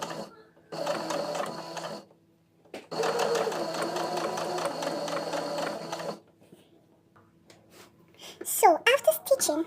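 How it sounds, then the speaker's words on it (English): A sewing machine straight-stitches bias tape onto the leg of a diaper cover in two close, loud bursts of rapid stitching separated by a short pause, and a voice speaks briefly afterward. "I'm just going to stitch straight down, straight stitch."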